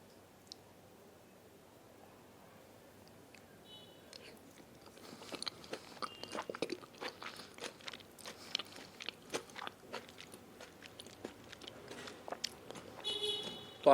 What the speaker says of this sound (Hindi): अब खाते हैं। एक अच्छी सी टेम्पटिंग सी बाइट लेता हूँ आप सबके लिए।